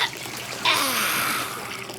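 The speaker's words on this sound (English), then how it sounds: "He splished and he splashed as Blue helped scrub all the mud off little" Water splashing in a bubbly bathtub, a brief burst of sloshing and splatter that rises suddenly and then settles into a steady watery wash, close and moderately loud.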